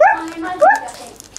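A dog barks and yips a few times in quick succession, slightly distant, followed by quiet.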